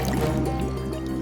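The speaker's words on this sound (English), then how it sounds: "pouring bottles of potion into the cauldron" Liquid from bottles of potion pours and trickles into a cauldron in a steady, close, continuous fill with no voices.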